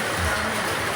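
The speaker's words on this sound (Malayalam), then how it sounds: "നല്ല സൂപ്പർ മഴ വെളിയിൽ." Heavy rain falling outdoors, a continuous, even hiss of downpour heard from inside a home, brief and steady with no talking.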